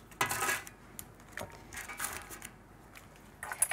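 Metal fork and spoon clink and scrape against a large bowl while tossing cauliflower florets in a red sauce, several light irregular clatters close up.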